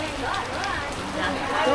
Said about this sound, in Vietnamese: Mưa quá trời mưa. Mưa từ hồi 6 giờ mấy, 7 giờ tới bây giờ.